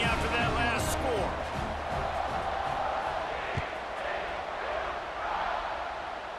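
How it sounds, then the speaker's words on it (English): Stadium crowd in EA Sports College Football 26 after a touchdown, a dense rumbling roar that eases slightly over time, with a play-by-play commentator talking over it. "this crowd is buzzing after that last score"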